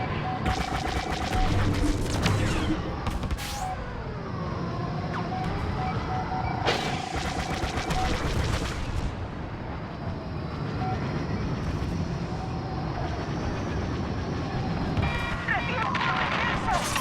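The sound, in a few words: starfighter shots and explosions in video game Star Wars Battlefront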